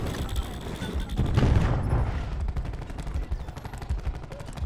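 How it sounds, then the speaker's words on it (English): Cluster grenade going off in a first-person shooter game: a burst of explosive booms and crackling blasts swells at the start, then trails into scattered rapid pops and rumble. "Hostile cluster grenade."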